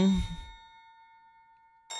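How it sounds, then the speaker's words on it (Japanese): A phone rings once in the PS4 horror adventure game Shin Hayarigami 2, a short bright electronic ring that hangs on as a thin sustained tone before the next ring cuts in at the end. "うお電話"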